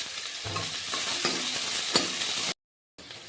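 Chopped onions fry in hot oil spiced with cinnamon, cardamom and cloves for chicken dakbanglo, a loud continuous sizzle broken by occasional stirring scrapes, then cut off briefly before resuming.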